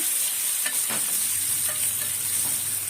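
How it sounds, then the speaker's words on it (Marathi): Onion and green chili sauté in a pan with asafoetida for vermicelli upma, a constant close hiss of frying oil with brief stirring scrapes. "आता हे दोन्ही चांगलं परतवून घेऊया थोडंसं लाल होईपर्यंत"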